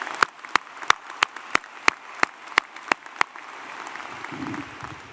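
A graduation ceremony audience gives a short round of applause, with a dozen distinct, evenly spaced claps standing out over a softer crowd patter that fades after a few seconds.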